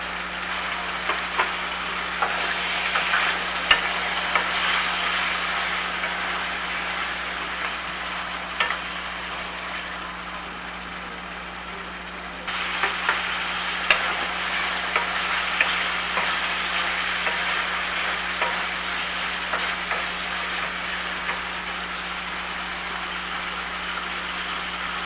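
Chicken livers fry in a pan, a steady, close hiss of sizzling fat that runs continuously, with scattered small pops and a faint low hum underneath, no voices.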